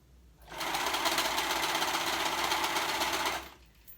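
A serger or zigzag sewing machine stitching a stretched band onto a romper, one steady, fast mechanical whir lasting about three seconds, close and loud, starting and stopping sharply, with no talking.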